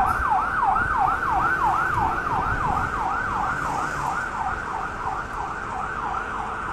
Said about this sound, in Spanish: El camión de bomberos va a rescatar a alguna persona para allá y no lo dejan pasar.